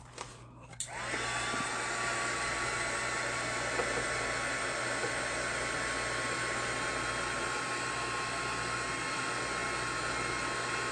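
A hair dryer switches on after a short click and blows with a steady, loud whooshing hum, drying paint on an art journal page, running continuously with a faint whine and no talking.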